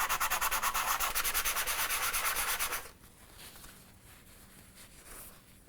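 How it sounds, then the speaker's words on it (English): Sandpaper rubs the edge of a cookie back and forth in quick, even strokes for a few seconds, then stops, leaving quiet scraping and faint handling noises. "I'm going to use sanding paper"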